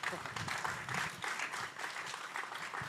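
Audience applause during a literary talk, a dense, even wash of clapping from the crowd filling the whole stretch at moderate level, with no clear speech over it.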